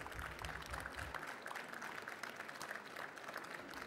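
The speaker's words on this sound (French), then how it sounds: "On peut vous applaudir." An audience at an export trophy ceremony for eco-businesses applauds a winner with steady, moderately faint clapping, and a voice briefly speaks underneath at the start.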